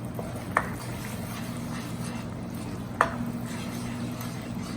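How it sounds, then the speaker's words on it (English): Masala is stirred in a pan on the stove. A soft, continuous scraping and sizzling hum runs underneath, and two brief, sharp clinks of the utensil against the pan stand out. "stir."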